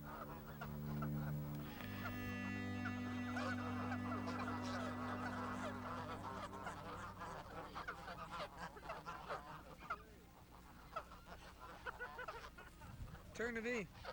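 Geese in a Canadian village honk in a loud nearby flock, with repeated overlapping calls, while someone speaks over them.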